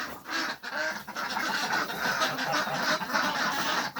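Farm ducks quacking in icy weather in a noisy, busy stretch, calls overlapping steadily throughout at moderate distance.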